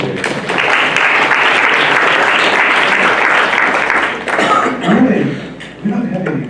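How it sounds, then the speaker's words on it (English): Classroom audience applauding students after a lecture demonstration, a dense steady clapping that fills most of the stretch before thinning out, with a few voices and chuckles surfacing near the end. "Let's give them some more applause."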